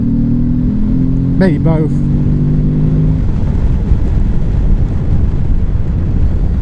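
A Morbidelli T1002VX motorcycle engine pulls hard while overtaking, its rising tone briefly sweeping up before being swamped by heavy, constant wind roar, with a rider talking over it.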